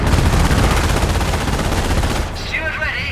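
Dense, continuous gunfire in the WWII strategy game Company of Heroes: Opposing Fronts, fighting around Hill 112, rattles loudly for about two seconds and then gives way to quieter battlefield noise.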